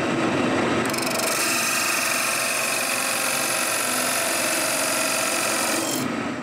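A wood lathe runs steadily in a workshop with a tool rasping against the spinning workpiece, a loud continuous grinding hiss that starts abruptly and holds steady for several seconds before cutting off.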